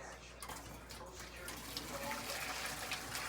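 Pasta cooking water pours from a pot into a strainer, a steady continuous rush of splashing water, moderately close and alone.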